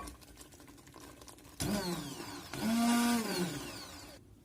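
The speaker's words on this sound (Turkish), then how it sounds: "Şimdi blender yardımıyla biraz karıştıracağım." A blender mixing organic apricots whirs in two short bursts, its motor pitch rising under load, fairly quiet and close, with no talking.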